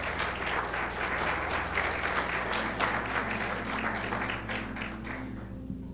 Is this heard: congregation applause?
yes